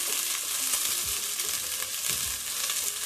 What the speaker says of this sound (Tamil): நான் இதை போட்டு நல்லா வதக்கிடுறேன்.